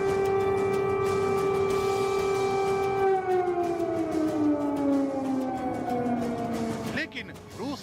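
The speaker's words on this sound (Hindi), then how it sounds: "यूक्रेन ने एयर सायरन से रूस के खिलाफ युद्ध का बिगुल फूंक दिया है।" An air raid siren wails in Ukraine, holding a steady rising tone and then sliding slowly downward, loud and echoing across the distance, while a voice briefly speaks near the end.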